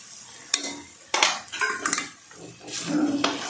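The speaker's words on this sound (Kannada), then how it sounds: "ಚೆನ್ನಾಗಿ ಮಿಕ್ಸ್ ಮಾಡ್ಕೊಳ್ಬೇಕು." A spoon stirs mutton masala into mutton chops in a pan, giving a few sharp metallic scrapes and clinks against the pan with soft shuffling in between, close and fairly quiet, with no talking.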